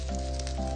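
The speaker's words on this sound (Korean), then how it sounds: "이렇게 팬에서 이제 노릇노릇하게 구워지는 동안에" Food fries golden in a pan with a continuous soft sizzle, accompanied by a steady low electrical hum and no voices.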